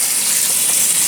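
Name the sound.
water rinsing swelled corn kernels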